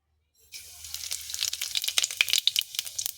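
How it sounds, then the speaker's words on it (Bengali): Cumin seeds go into hot oil in a pan, with a short silence before a sharp burst of sizzling. Rapid crackles and pops follow, growing denser and louder. "তেলটা গরম হয়ে গিয়েছে এখানে আমি অল্প জিরে ফোড়ন দেব"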